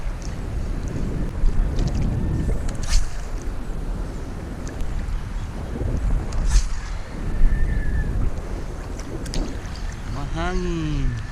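Steady wind roars across the microphone over lapping sea water while fishing, with a few faint knocks and a brief tonal squeak near the end.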